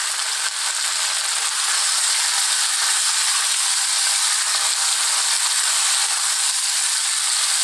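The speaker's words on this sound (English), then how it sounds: "So we can now go back in with our beef, our coated seasoned beef." Coated, seasoned beef strips frying with chunky bell peppers in a hot pan for a Chinese pepper steak stir fry, giving a steady, loud, dense sizzle that holds evenly throughout with no voices.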